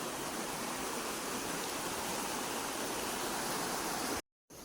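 A stream flows steadily toward a nearby river beside a new home in a grassy rural setting, giving a close, even rush of water that cuts out briefly near the end.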